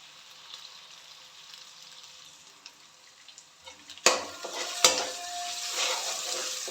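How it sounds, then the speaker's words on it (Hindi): Garlic-ginger paste frying in a pan for khatte baingan, stirred with a spoon; a soft sizzle swells into louder crackling with two sharp scrapes midway, no talking. "चम्मच आपने हिलाते जाना है ताकि लहसुन अदरक के पेस्ट की वजह से मसाला नीचे ना लग सके"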